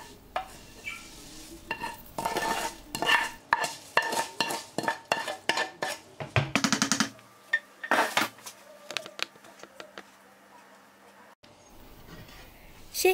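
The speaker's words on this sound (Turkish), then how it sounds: "Şehriyeleri muhallebimize güzelce yediriyorum." A spoon clatters and scrapes against a pot, stirring toasted vermicelli into hot milk pudding, with quick rhythmic clinks that thin out into softer, slower scrapes.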